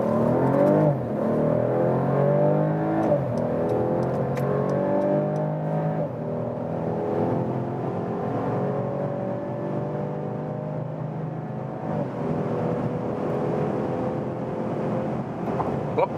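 A 2022 Mercedes CLS 450 facelift in Sport Plus mode pulls hard on the German Autobahn from low speed, its engine note climbing steadily through the gears as a loud, continuous interior drone with no talking.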